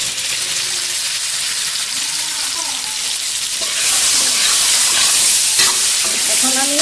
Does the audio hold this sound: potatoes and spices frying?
yes